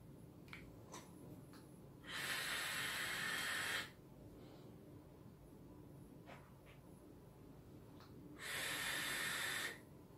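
Two soft, close airy hisses of vapour exhaled from an e-cigarette loaded with blue mist liquid at 95 watts, each lasting about two seconds, separated by quiet breathing and small clicks.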